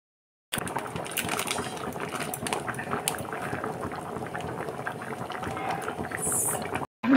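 Chana masala boiling in a pot, a steady, soft bubbling and gurgling that runs close and continuous between short silent gaps at each end.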